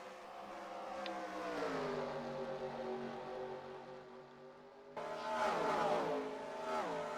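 Race car engines in a Dover stock car racing video game: a steady, droning pack of engines shifting pitch, with a sudden louder surge of revving cars passing close partway through, no voice over it.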